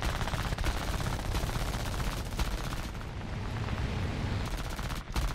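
Rapid automatic gunfire rattles continuously in the Kamikaze Simulator video game, loud and dense for several seconds with only a brief dip near the end.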